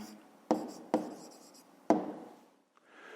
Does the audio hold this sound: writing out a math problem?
yes